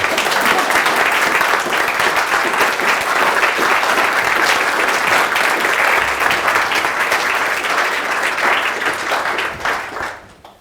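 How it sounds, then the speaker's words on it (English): Sustained applause from a live audience at a business week interview event fills the space loudly and steadily for about ten seconds before tapering off at the end. "You can clap if you want."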